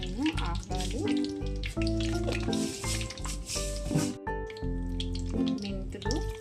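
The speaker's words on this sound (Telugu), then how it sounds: "ఆయిల్ వేడైంది. ఇప్పుడు దీంట్లో నేను ఆవాలు," Mustard seeds pop and sizzle in hot oil for a Tamil Nadu-style fish curry, with steady frying crackle under loud, tuneful background music throughout.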